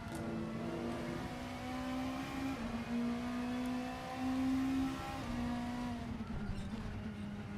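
British touring cars race in Assetto Corsa, several engines droning and revving steadily together at high pitch with gear changes and faint tyre noise, continuous throughout with no talk.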